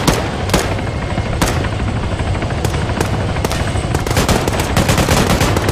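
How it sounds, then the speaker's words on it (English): Helicopter rotor drone with bursts of gunfire in the Arma 3 military shooter, loud and continuous, sharp shots and rapid fusillades cutting through the whirring engine throughout, no voices. "Helicopter, taking fire from the southwest."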